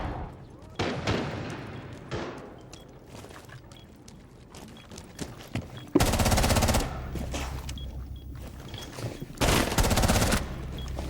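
Video game gunfire in Rainbow Six, with a shotgun among the weapons: scattered sharp shots early on, then two long, loud bursts of rapid fire with a low rumble beneath, amid game sounds.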